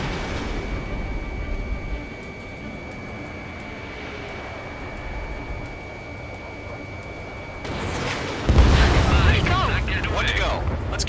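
Missile explosion in the Ace Combat 7 jet combat video game, a sudden loud rumbling blast erupting late over a constant jet engine roar, with voices talking over the engine noise beforehand.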